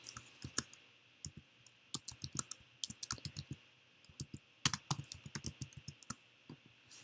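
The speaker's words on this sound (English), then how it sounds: "Click back into the text box, and let's type in" Irregular bursts of crisp keyboard typing with occasional mouse clicks while working in AutoCAD, close and clear against a faint steady hum, with no voices.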